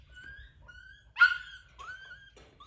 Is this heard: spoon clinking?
no